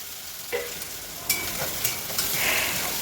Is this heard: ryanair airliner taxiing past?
no